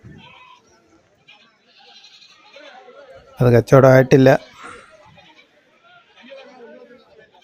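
At a goat market, a goat bleats loudly several times in quick succession midway through, surrounded by quieter background chatter and a brief spoken phrase.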